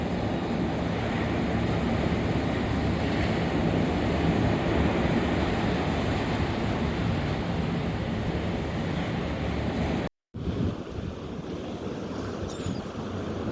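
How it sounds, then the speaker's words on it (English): Rough sea and strong wind on the Florida panhandle coast during Hurricane Helene, a continuous loud roar of surf and gusting wind buffeting the microphone, briefly cut out near the end before resuming. "the water is getting really rough and the winds are picking up"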